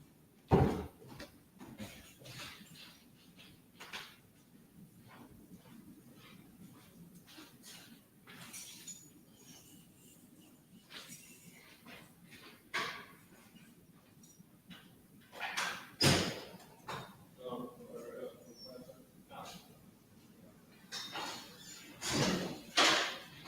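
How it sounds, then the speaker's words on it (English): An indoor door opened and handled, with a run of sharp knocks, clunks and clicks spread irregularly over the span and a couple of louder bangs near the middle and end, set against a low room rumble. "I'll grab the door, Baba Kashar."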